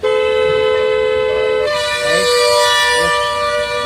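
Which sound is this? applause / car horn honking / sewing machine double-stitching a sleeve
car horn honking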